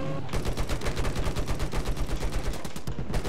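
Rapid bursts of automatic gunfire from a helicopter in the video game Battlefield 4, a dense, steady stream of loud shots carrying on without a break in a snowy combat map.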